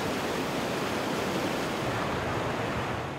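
San Diego River floodwater after heavy rain, rushing across roads near Fashion Valley Mall, a loud, steady roar of churning water that holds without a break.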